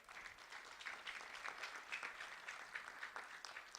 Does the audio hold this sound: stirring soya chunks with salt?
no